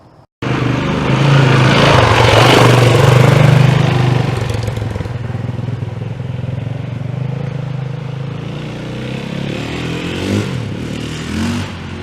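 A Yamaha WR450F dirt bike engine roars loudly close by after a sudden start, holding a rough idle-to-rev drone that gradually eases as the bike pulls away, with a throttle blip near the end.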